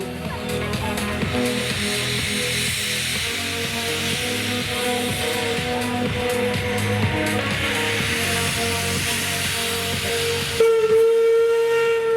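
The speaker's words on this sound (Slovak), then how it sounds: "Tento krásny rušeň poznáte mnohí pod prezývkou Štoker." Steam locomotive nicknamed Štoker, built in 1952, running at a turntable during a railway event: steady rhythmic chuffing exhaust beats with rolling wagon noise, ending in a loud sustained whistle tone near the close.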